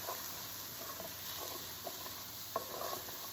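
Onions cooking in a pan with a soy sauce, ginger and garlic mixture give a low, steady sizzle, with occasional light clicks of a utensil stirring through.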